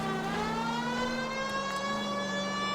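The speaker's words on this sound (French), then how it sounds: "Can we hit the siren, Phelps?" A police car siren in the video game L.A. Noire wails steadily at close range, its rising and falling tone held loud and continuous throughout with no talking.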